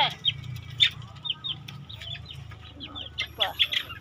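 Chickens cluck in short chirpy bursts close by on a farm, with a rooster among the fowl, repeated calls scattered throughout over a low background hum and faint voices.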